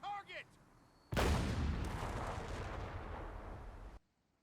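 In the video game Company of Heroes 3, an artillery piece fires a high-explosive shell, one sudden heavy boom that rolls into a long rumbling decay of about three seconds, following a brief bit of speech.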